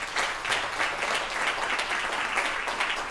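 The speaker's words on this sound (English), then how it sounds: "Another round of applause for Dot." An audience at a film premiere event applauds, dense continuous clapping from many people that stays loud and even for the whole stretch.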